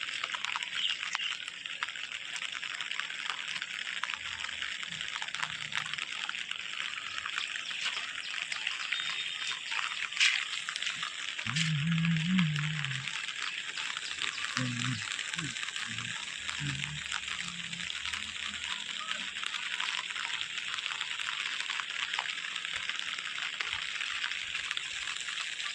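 After a downpour, rainwater from the whole village pours continuously into a drain, a steady rushing hiss throughout with brief low voices or animal sounds in the middle.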